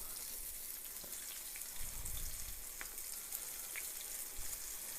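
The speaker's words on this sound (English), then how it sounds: "You know it's good and hot when it bubbles like that." Chicken breast fries in hot oil in a skillet with a steady, soft sizzle and light bubbling, close by, with faint occasional clicks.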